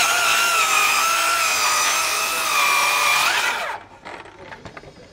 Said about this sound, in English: Now let's do a nice long rip so you can really appreciate it.